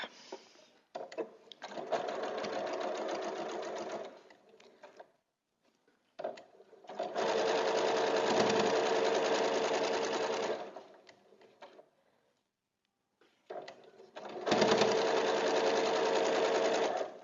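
A sewing machine stitching quilt blocks together along a quarter-inch seam for a scrappy star quilt, running in three steady whirring bursts of several seconds each, separated by short pauses, close and clear.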